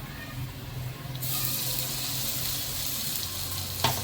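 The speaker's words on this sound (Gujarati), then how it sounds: "મસાલો સરસ રીતે પાકી ગયો છે તો તેમાં જે કાંદાની પેસ્ટ તૈયાર કરેલી છે તે નાખી દેશું" Onion paste hits cooked spice masala in a hot pan for palak rolls, and a sudden bright sizzle bursts in and keeps frying steadily and close, with a brief clatter near the end.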